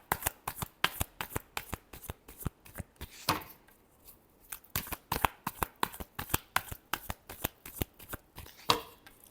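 Tarot cards shuffled by hand during a reading, a rapid run of crisp riffling flicks and slaps in close, steady bursts with a brief pause midway, no voices.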